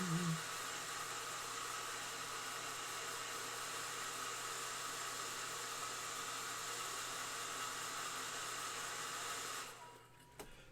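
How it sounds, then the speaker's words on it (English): A hairdryer blows steadily and loudly for about ten seconds over a painted miniature, then cuts off abruptly near the end. "I'm gonna hit this with a hairdryer"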